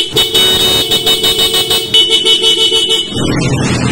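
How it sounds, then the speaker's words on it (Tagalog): Horn on a Bristol motorcycle fitted with upgraded hand guards carrying signal and hazard lights, sounding in a rapid series of short repeated toots at close range, then cutting off into engine idle. "Busina natin."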